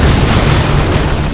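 Massive car bomb blast from a vehicle packed with 350 kg of explosives rammed into a bus in Pulwama, Kashmir: a loud, sustained low rumbling roar filling the whole short stretch with no voices.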